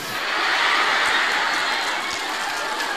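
Audience applause at an Indonesian religious lecture gathering, a steady dense wash of clapping from a crowd filling the room for a few seconds, fairly loud and continuous.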